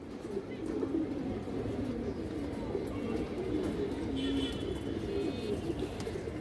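A large silver female pigeon coos in low, rolling phrases, fairly near, with faint voices and general background noise around it.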